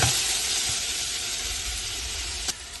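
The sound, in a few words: onion, green chili, fennel and mustard sautéing in pan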